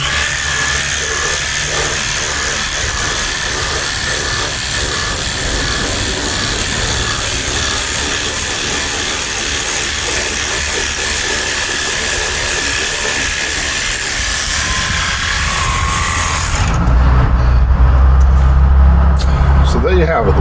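Worx Hydroshot cordless power washer sprays water onto a car, producing a loud, continuous close-up hiss with a steady motor whine underneath, shifting to a heavier, rougher spray toward the end.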